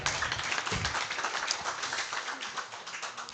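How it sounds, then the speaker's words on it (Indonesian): At a GP Ansor youth organisation inauguration, an audience claps for their deputy chairman, a busy, moderately loud patter of many hands that continues evenly without a break. "Tepuk tangan untuk Wakil Ketua kita."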